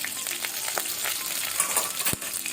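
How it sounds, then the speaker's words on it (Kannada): Five or six crushed garlic cloves sizzle in hot coconut oil with mustard seeds and curry leaves for a mussels sukka tempering. The frying crackles steadily up close, with a few sharper pops and a brief stir. "ಆನಂತರ ಬೆಳ್ಳುಳ್ಳಿ 5ರಿಂದ 6 ಎಸಳು ಜಜ್ಜಿ ಹಾಕಬೇಕು"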